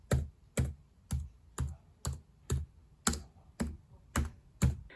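Clicky keys on a Lenovo Chromebook keyboard typed at a steady, even pace, about ten distinct close keystrokes with short gaps between them and nothing else audible.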